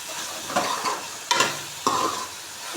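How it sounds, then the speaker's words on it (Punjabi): Masala frying in oil for Punjabi kadhi, stirred with a few distinct scraping strokes over a steady close sizzle; no voices. "ਆਪਣਾ ਮਸਾਲਾ ਪੂਰੀ ਤਰ੍ਹਾਂ ਨਾਲ ਭੁੱਜ ਗਿਆ ਤੇ ਤੇਲ ਛੱਡ ਗਿਆ"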